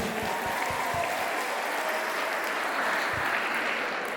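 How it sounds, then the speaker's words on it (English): Audience applauding at a university runway fashion show, a steady moderate patter of clapping that holds evenly throughout with no speech over it. "round of applause for Miss Tira Mangay?"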